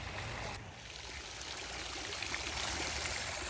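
Water from garden fountains and ponds pours and trickles in a steady, moderately close wash, with no voices over it.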